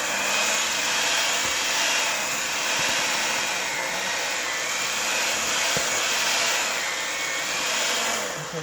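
An electric hand mixer beats oatmeal cookie dough in a home kitchen, a steady close whirring drone that holds at even loudness for the whole stretch and cuts off abruptly at the end, with no talking.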